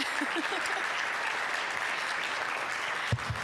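An audience at an investment conference competition claps to welcome a speaker onto the stage, a continuous crowd applause with a brief voice and a sharp knock near the end.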